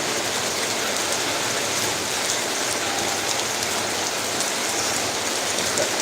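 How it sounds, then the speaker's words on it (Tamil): Heavy rain pours down steadily, a dense unbroken hiss of drops on surfaces with no voices. "சரியான மழை பெய்யுது"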